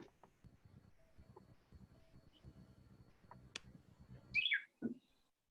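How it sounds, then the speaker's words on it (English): A bird in a back yard gives a couple of brief, sharp chirps near the end, clear above a faint, quiet outdoor background. "I keep hearing a bird."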